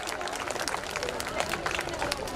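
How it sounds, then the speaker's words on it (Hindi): Audience at a school annual day celebration claps for a student, a brief burst of brisk, dense applause with crowd chatter mixed in. "बजाइए जरा सा तनवीर के लिए जोरदार तालियां."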